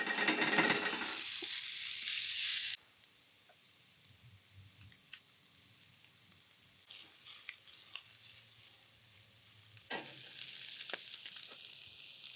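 Sausage sizzles loudly in a hot skillet on a stovetop burner, a dense frying hiss for the first few seconds that then drops to a quieter, steady sizzle with occasional small clinks and stirring sounds.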